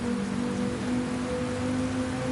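Steady, dense rain hisses evenly during a wet Gr.4 race in Gran Turismo 7, with a low engine-like drone running beneath it throughout.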